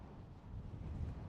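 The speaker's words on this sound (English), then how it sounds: "It's bloody windy." Strong gusty wind buffets the microphone on a desert hilltop about 4,900 feet up, near Red Rock Canyon outside Las Vegas, a steady low roar with no voices.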